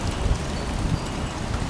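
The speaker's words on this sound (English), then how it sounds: "Run out in the rain, Evie." Cold spring rain pours steadily outdoors, a dense even hiss with a low rumble of drops hitting surfaces, no voices over it.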